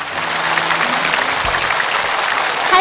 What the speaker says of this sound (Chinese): 大家掌声欢迎他们